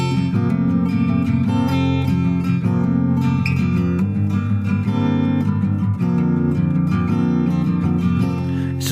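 Acoustic guitar in an alternate tuning with open strings droning under the chords, played alone and close, sustained ringing tones and overtones throughout.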